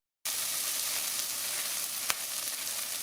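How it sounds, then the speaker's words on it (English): Bacon and onion frying in olive oil, a soft, even hiss of sizzling fat that begins abruptly after a moment of silence and continues steadily, with one brief sharp crackle partway through; quiet and without talk. "I'm going to cook the bacon until it is slightly crispy"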